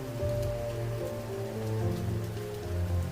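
Steady rain pours down in a dense, continuous wash of drops striking surfaces, loud and even throughout with no voices.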